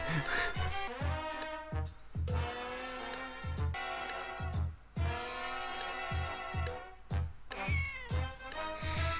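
A cat meows again and again in a steady rhythm, forward and prominent against a musical backing on the Kamen Rider Gavv soundtrack, with no talking.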